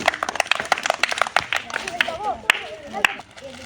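Children clap together for a consolation prize winner at a village ball-throwing game, a burst of quick, scattered handclaps that thins out, with talk and voices over it.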